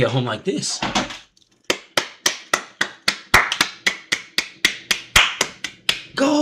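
A streamer claps his hands alone in a room, about fifteen sharp, evenly spaced claps in a steady rhythm, close and loud, with his talking just before and after.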